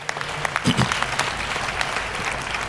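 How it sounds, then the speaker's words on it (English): Audience clapping in praise of presidents after their statements at a voting event, a steady wash of applause with some brief voices mixed in. "Why don't we give all of our presidents a hand clap of praise for awesome statements."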